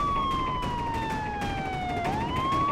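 A police siren wails loudly and close by, its pitch sweeping down slowly then rising again over a rumbling engine background.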